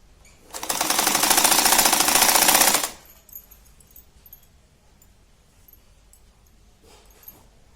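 A sewing machine runs in one steady burst of about two seconds, stitching the seam of a kitchen hanging towel, then stops, leaving quiet handling noises.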